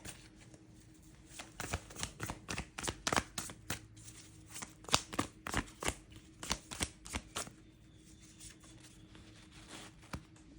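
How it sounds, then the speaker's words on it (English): Tarot cards being shuffled close by, a quick run of crisp riffling snaps and slaps that trails off into a few sparse taps. "you can maybe hear me shuffling here on the side"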